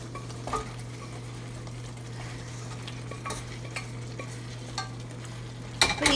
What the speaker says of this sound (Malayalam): അപ്പോൾ ഈ ഗ്രേവി എല്ലാം ആയിട്ട് ബീഫ് നന്നായി അങ്ങ് ഇളക്കി ചേർക്കാം